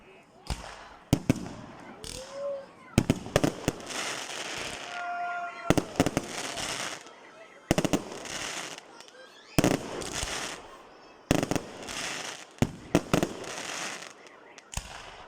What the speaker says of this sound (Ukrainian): Смотри, еще салют.